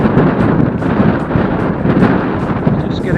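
Strong headwind buffets the microphone of a cyclist on a road climb in the Pyrenees foothills, a loud, continuous, rumbling roar with gusty surges and no speech.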